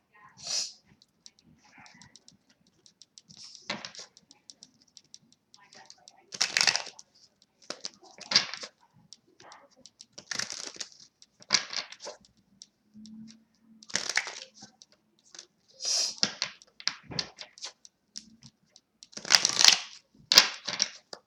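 Tarot cards are shuffled and drawn in bursts of papery riffling and snapping, close and crisp, with quiet gaps between them and a voice speaking briefly at times.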